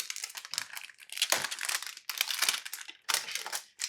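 Protective plastic wrapping being peeled and crumpled off a Typhur Sync oven, close crinkling and tearing in three long bursts separated by brief pauses.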